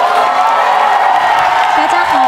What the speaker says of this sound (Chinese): 各位观众，掌声欢迎许维恩。